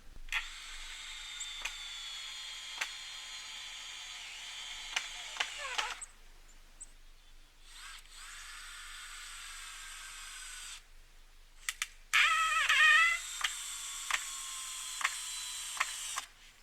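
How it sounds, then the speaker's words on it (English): A power drill's high-pitched motorized whine runs in long bursts with short pauses during restaurant renovations, with clicks and a brief louder grinding surge near the end. "Now, I had my drill here"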